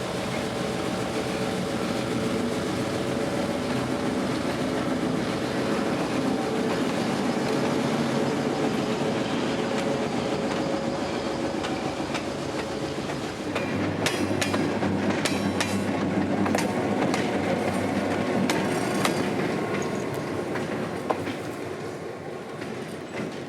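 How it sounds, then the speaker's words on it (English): An excursion train runs northbound on the rails in Central Florida with a sustained rumble and clickety-clack of wheels. Partway through it shifts to brighter squealing and clanking from the wheels, moderately close and without talk. "the 5:30 excursion is off northbound to Willow"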